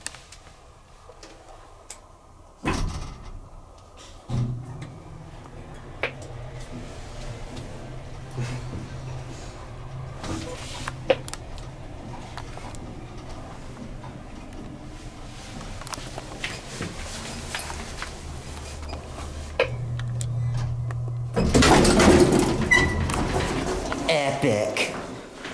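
A vintage Otis top-driven traction service elevator motor runs with a steady low hum and scattered ticking clicks, starting with a clunk and ending in a loud burst of clatter, while people talk faintly.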